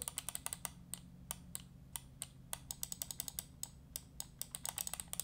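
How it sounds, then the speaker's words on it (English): Makalu Max gaming mouse with KLGM 8.0 switches, its left and right buttons pressed again and again, giving a fast, irregular run of sharp, crisp clicks close to the microphone with no talking. "Listen to button number 1, our left click here. Now listen to button number 2, our right click."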